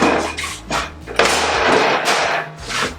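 Metal clanks and ratcheting bursts from a wrench as a plate is bolted down onto a Harbor Freight motorcycle lift, loud and close, in irregular busy bursts with a low steady hum underneath.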